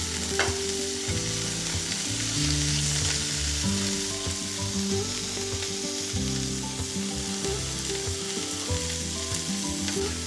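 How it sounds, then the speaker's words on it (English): Kangaroo meat sautéing in a hot pan, a steady close sizzle with stirring and scraping clatter throughout, joined by a tonal background layer. "So you're probably going to saute it off for about 2 minutes each side"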